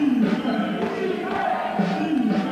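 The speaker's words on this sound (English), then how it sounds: "the crowd said defense here for Indonesian Warriors, home team" A home crowd at an ABL 2013 basketball game between Indonesia Warriors and Slingers chants defense in a rhythmic, repeated call, a large arena crowd roaring steadily with a commentator talking over it.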